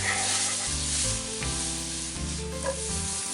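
Mirepoix vegetables and garlic sautéing for a tomato pasta sauce, a dense continuous sizzle with a few stirring shifts, close and even, no voices.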